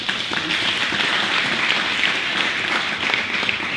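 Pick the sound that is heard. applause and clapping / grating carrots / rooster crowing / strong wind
applause and clapping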